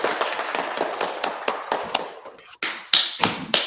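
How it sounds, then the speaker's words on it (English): Several people clap in a quick, irregular series of sharp, close claps, then a brief lull followed by a few louder, more spaced claps. "Let's clap for that"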